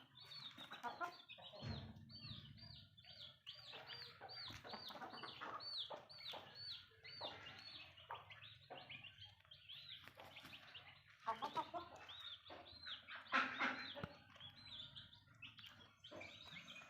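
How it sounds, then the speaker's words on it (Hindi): A rooster of the chukar partridge breed clucks repeatedly up close, a steady run of short, throaty calls with brief pauses between them and no talking. "ये हमारा मुर्गा है माशाल्लाह"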